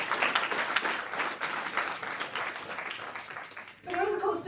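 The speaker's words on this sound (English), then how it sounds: "Give yourself a clap." Conference audience at a Nottingham youth political gathering breaking into sustained, dense clapping for about four seconds, steady and fairly even, then cutting off as a voice resumes.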